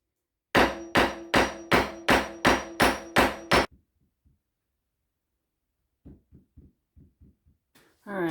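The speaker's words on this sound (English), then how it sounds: "masonry chisel, I don't have a regular chisel with me, so I'm hoping that this works the same." A hammer strikes a masonry chisel while a kitchen countertop is removed: eight loud, evenly paced metallic blows with a ringing tone, then a pause and a run of quieter, quicker taps.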